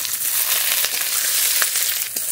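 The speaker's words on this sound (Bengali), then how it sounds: "রসুনটা একটু ভাজা ভাজা করে নিয়েছি" Garlic cloves, cumin seeds and dried and green chillies frying in oil, a steady close sizzle with scattered small pops throughout, no talking.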